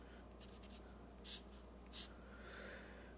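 Marker or chalk strokes on a board during a circuit math lesson, a few faint scratches followed by two sharper squeaky strokes, quiet against a low room hum.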